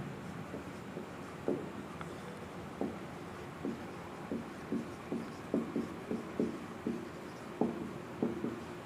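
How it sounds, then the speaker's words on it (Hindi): Trigonometric ratios being written on a board, a steady series of soft, short taps and scratching strokes at an unhurried rhythm over a quiet room hiss, with no voice heard. "देखिए यहाँ पर लिखता हूँ मैं"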